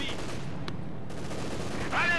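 Gunfire in the World War II strategy game Company of Heroes 2, with a steady rattle of shots under a continuous battle din and one sharp crack partway through.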